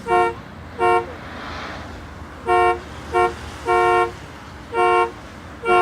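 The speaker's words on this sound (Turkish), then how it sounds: "ne basıyorsun kornaya tak tak tak tak?" A car horn honks repeatedly in short blasts of varying length, loud and close, over steady traffic noise.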